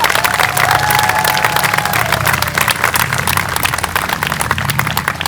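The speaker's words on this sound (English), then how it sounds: "How about another round of applause" A crowd applauds steadily at an outdoor Memorial Day commemoration in Hillsborough, New Jersey, producing loud, dense, continuous clapping with some cheering throughout.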